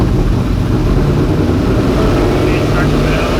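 A Ford F150 prerunner truck engine runs loud and close with a deep, rough, steady roar that holds without much change. Voices may be mixed in.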